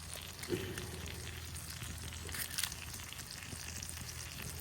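Eggs fry in a single pan topped with fresh thyme and smoked paprika, giving a steady, soft crackling sizzle that runs evenly throughout with a couple of faint pops, with no voices.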